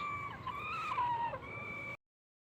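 Pet chickens cluck and call in short, bright bursts for about two seconds, close by and moderately loud, with no voices over them.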